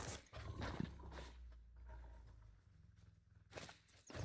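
Low, rumbling animal growls in the video game The Hunter: Call of the Wild come and go over a few seconds, deep and fairly close, with a sharper noise near the end.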